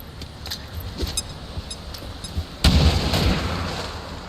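Grenade blast in XCOM 2: War of the Chosen, a sudden loud boom partway through after quieter scattered game sounds, followed by a rumbling decay.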